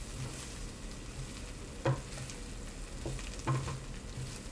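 Pearl couscous toasting in a pan and being stirred, a steady soft sizzle with a few louder scraping stir strokes, close and alone with no talking.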